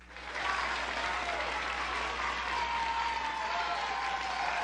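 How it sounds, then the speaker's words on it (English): Steady, uniform fake audience applause from a video game swells in and holds at an even level, with a slightly artificial, looped quality. "I love the fake audience clapping."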